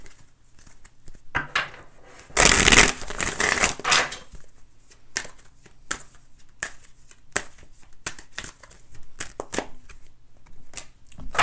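Tarot cards shuffled by hand, starting with soft scattered riffles, then a loud dense burst of riffling around the middle, followed by a run of crisp separate flicks and taps. The sound is close and there is no talking.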